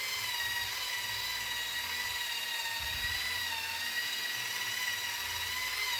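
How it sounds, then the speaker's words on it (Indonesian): A power polisher whirs steadily while buffing a crusted bathroom surface with WSR cleaning powder, a continuous high-pitched hum with no talking. "baru dilanjutkan dengan melakukan pemolesan menggunakan WSR powder ya, seperti ini. Kita poles seperti biasa."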